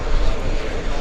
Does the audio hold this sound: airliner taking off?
yes